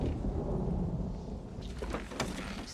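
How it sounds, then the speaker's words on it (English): Thunder from an approaching storm in a Game of Thrones scene makes a low, rumbling roll under a steady wash of rain, with faint crackles near the end. "There's a storm coming."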